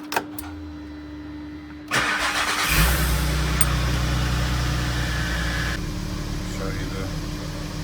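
A VW Golf R32 Mk5 with a VR6 engine cranks and fires after timing chain work, then settles into a steady idle close by, with a person speaking briefly before the start.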